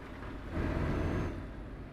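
Heavy Renault truck in a video game driving at night in rain with a massive payload: a steady low engine rumble with road and rain wash, swelling slightly midway, with no talking.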